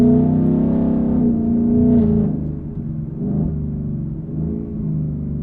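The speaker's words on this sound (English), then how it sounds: "the transmission shifts so much smoother now" A Ford Mustang GT with a 10-speed automatic accelerates steadily, its engine drone rising and dipping as the transmission shifts up through the gears, loud and close without talk.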